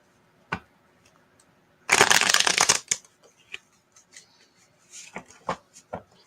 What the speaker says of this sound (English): Hope you don't mind the sound of shuffling.